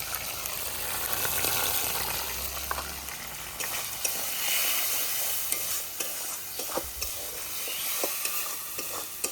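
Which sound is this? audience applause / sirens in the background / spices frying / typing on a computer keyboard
spices frying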